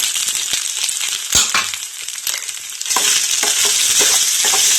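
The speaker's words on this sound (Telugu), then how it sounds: "కట్ చేసి పెట్టుకున్న బంగాళదుంప ముక్కల్ని వేస్తున్నాను" Cut potato pieces hit a hot pan of oil with ginger-garlic paste and are stirred, bringing loud close sizzling, scraping stirs and sharp crackles that swell into a sustained fry.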